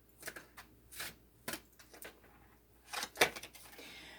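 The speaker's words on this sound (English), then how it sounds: "let's go ahead and get the cards out first" Tarot cards being shuffled and laid out on a table, a few soft riffling swishes and card slaps spaced through a quiet room, close and faint, ending in a brief crisp burst.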